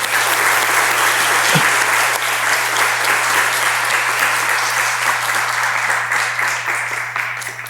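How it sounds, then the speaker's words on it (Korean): Children in a church congregation applaud enthusiastically, with sustained, loud, dense clapping that holds steady for several seconds over a constant low hum, then tapers slightly at the end. "우리 아이들의 박수 한번 보세요."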